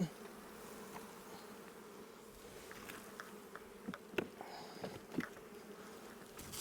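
Soft, continuous buzzing of honeybees around an open hive fills the background, with a few sharper buzzes and light clicks passing close by.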